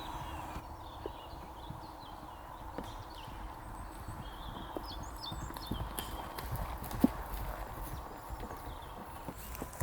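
Horses' hooves clip-clop steadily along a forest trail during a ride, a continuous moderate walking rhythm with occasional louder knocks, heard from close by amid faint ambient outdoor sound.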